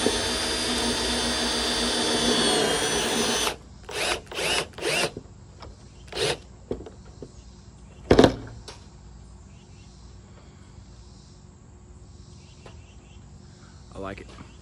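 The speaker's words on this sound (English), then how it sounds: "it's a regular battery powered drill" A battery-powered drill drives a hidden hanger screw through a gutter into the fascia, a sustained whirring run followed by several short bursts of the motor, then quiet with faint background noise.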